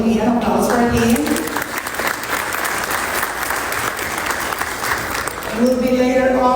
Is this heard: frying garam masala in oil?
no